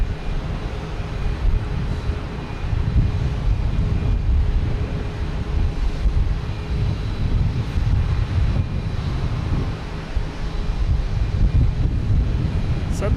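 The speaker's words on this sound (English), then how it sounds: "Suddenly getting really gusty wind here." Gusty wind buffets the microphone at Boston Logan Airport, a loud, continuous low rumble that swells and eases without a break.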